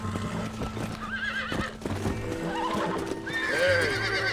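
Horse in the Western video game Red Dead Redemption whinnies twice, shrill rising neighs, over a steady clip-clop of hooves and game music, close and fairly loud with no talk.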